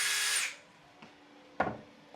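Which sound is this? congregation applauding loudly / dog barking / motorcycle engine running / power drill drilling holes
power drill drilling holes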